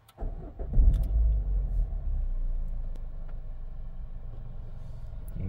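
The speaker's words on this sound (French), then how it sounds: "on va démarrer et on va aller faire l'essai routier" A 2007 Citroën C5 Exclusive engine turns over and starts with a brief rising surge, then settles into a low, steady idle nearby; no voices.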